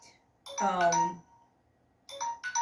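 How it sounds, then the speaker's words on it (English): Kitchen timer going off with bright electronic chiming tones, one burst of ringing followed by a pause and then a second set of short repeated beeps, moderately quiet in an otherwise still room. "Sorry for that noise, that's my timer."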